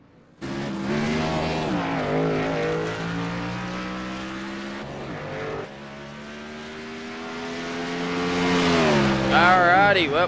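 A race car alone on the track during closed qualifying, its engine note rising and falling through gear changes as it approaches and passes, then revving harder near the end, with a commentator's voice over it.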